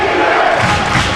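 Loud, dense roar of a crowd cheering at a high school girls' or boys' basketball game between Evanston and Rock Springs, filling an indoor gym continuously and close up.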